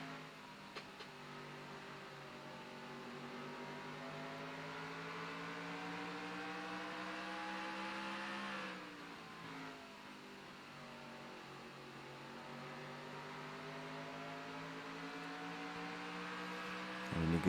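A Toyota race car engine in a racing video game holds a steady, droning whine that dips briefly as the revs drop, then climbs back, with no talking over it.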